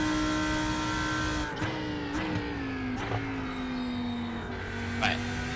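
A BMW M4 GT3 race car engine in iRacing holds a steady droning tone, with a few sharp gear-shift blips and slight pitch dips as it runs, while a voice talks over it.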